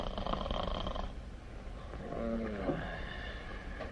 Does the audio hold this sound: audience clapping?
no